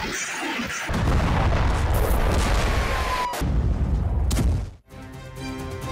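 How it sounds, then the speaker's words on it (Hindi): A loud, sustained explosive roar from an airstrike on Beirut, with dense rumbling that swells for several seconds before a sharp cut and lingering aftermath. "देखिए धमाके के बाद कैसे आसमान में धुआं ही धुआं नजर आ रहा है, जोरदार विस्फोट ये हुआ है।"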